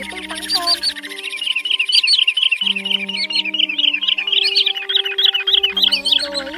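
Common greenshank calls, a rapid run of bright, clear repeated notes forming a loud close sequence over a steady low electronic hum, with no voices.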